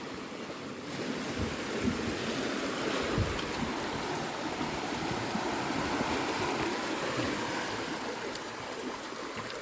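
Strong sea waves at the shore at low tide, a continuous loud wash and rumble of surf with wind buffeting the microphone, steady throughout with no talk.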